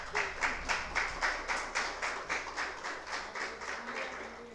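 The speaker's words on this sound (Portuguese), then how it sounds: "Dê um aplauso para o Senhor." A church congregation claps in steady unison, a rhythmic beat of roughly three claps per second that runs throughout, fairly soft and distant in a reverberant hall.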